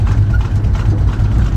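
A car engine fitted with an oversized camshaft idles at close range, a loud, lumpy, loping rumble with uneven pulsing beats, alone with no talk.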